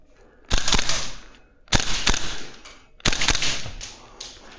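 Three bursts of VFC URGI V3 gas blowback airsoft rifle fire, each a rapid string of sharp cracks with hissing gas, separated by short pauses, fairly close.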